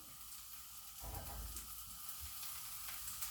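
Tofu hits a frying pan with vegetable fried quinoa, raising a faint, steady sizzle that swells slightly and holds, with light stirring scrapes beneath.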